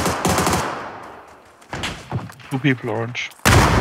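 Video game gunfire with bursts of automatic shots: loud rapid rattling near the start and a heavy burst at the end, with quieter shots between and players talking over it.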